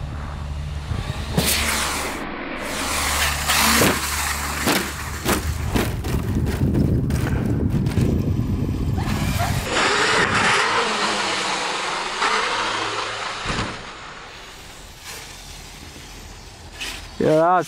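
A small high-pitched motor of a radio-controlled Traxxas monster truck whines and revs unevenly, surging and dropping with rattling bursts, fairly close and loud throughout.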